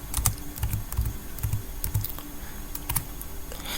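Keys on a computer keyboard are tapped in short uneven bursts as a command is typed, crisp close clicks with small pauses between them.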